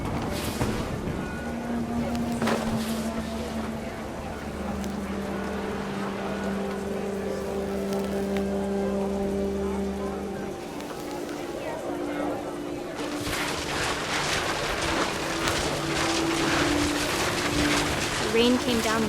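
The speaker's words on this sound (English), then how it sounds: "The rain came down in buckets then," Heavy rain pours down in the video game What Remains of Edith Finch, a steady hiss that swells louder in the second half beneath sustained musical tones.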